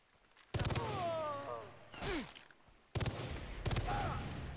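Galil assault rifle firing in Far Cry 3, with two loud bursts of rapid automatic fire separated by a pause, mixed with in-game sound effects.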